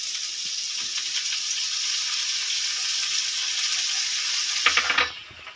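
Potatoes fry in a pan as shredded cabbage goes in, a loud, even sizzle that carries steadily, then a few stirring scrapes before it dies down abruptly at the end.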